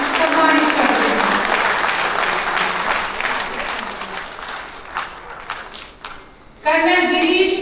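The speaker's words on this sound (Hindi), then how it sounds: "एक जोरदार ताली से इन्हें हम सम्मानित करते हैं।" Loud, sustained audience applause honouring gallantry-decorated soldiers at a Kargil Vijay Diwas ceremony in a Delhi office, dense clapping that thins out and then swells again near the end.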